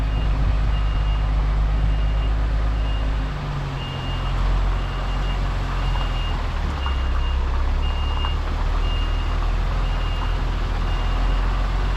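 A truck reverses on a Welsh countryside road, its reversing alarm beeping in a steady, evenly spaced series over a constant low engine rumble.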